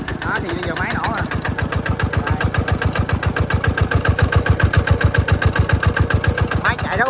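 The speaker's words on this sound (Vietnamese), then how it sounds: "bây giờ máy nổ rồi" An EA10 tiller engine runs at a steady idle, its rapid, even chugging pulses close and loud and slowly growing stronger, while someone talks over it.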